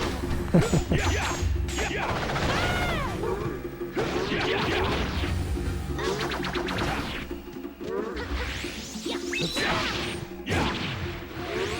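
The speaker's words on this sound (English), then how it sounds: "I love how the enemy's crashing from space" An enemy crashes down from space in the Blood Will Tell action game, heard as repeated loud smashing impacts and whooshes over a steady hum, with sweeping tonal effects running continuously through the scene.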